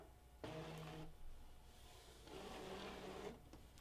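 Brother ScanNCut cutting machine drawing in its cutting mat: two short mechanical whirring bursts with a tonal motor hum, separated by a pause, quiet and close.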